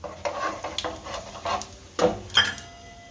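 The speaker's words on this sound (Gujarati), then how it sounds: "તેલ ગરમ થઈ ગયું છે આપણે જીરું નાખશું આમાં હિંગ નાખશું" Cumin seeds and asafoetida hit hot oil for a black-eyed pea curry, a close crackling sizzle punctuated by several clinks and scrapes of a spoon against the pot.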